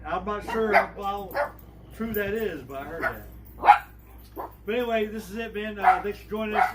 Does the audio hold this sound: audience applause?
no